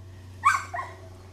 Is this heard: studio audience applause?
no